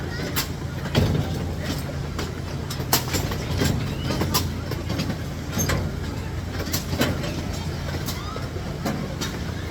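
The Compounce Railway, a ride-on park train at Lake Compounce, rumbles steadily with a low drone and periodic rail clicks, heard from on board at moderate level, with faint voices in the background.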